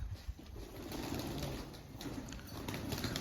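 Soft pigeon cooing sits in the low range, a murmuring coo repeated under steady outdoor hiss, fairly faint and distant.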